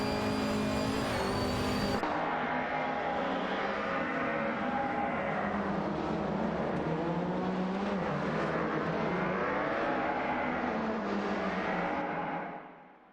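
BMW 320 race cars roar past in a race, a dense continuous engine drone with shifting pitch that holds loud throughout and fades out at the very end.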